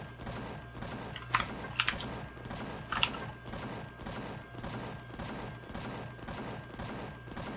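A capital vessel in a space game fires its guns in a steady rhythmic barrage of repeated thumps, with a few sharper clanking hits standing out, moderately faint.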